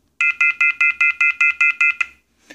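A loud, harsh telephone off-hook warning tone pulses in ten rapid, evenly spaced bursts, then stops, with a faint click after.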